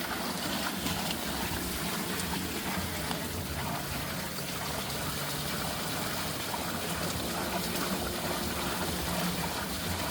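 A water wheel spinning steadily in flowing water, about 80 rotations per minute, a loud, constant rush and splash of churning water without pause.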